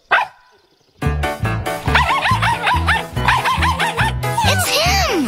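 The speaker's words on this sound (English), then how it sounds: "Say hello to your new puppy." A cartoon puppy in the Bubble Guppies show barks repeatedly in quick, yappy bursts over a bouncy music bed, following a short excited voice at the start.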